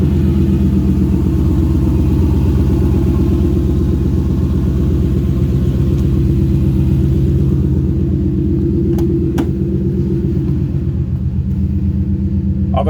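A car engine idles loudly and steadily, a continuous low rumble with a faint click or two near the end.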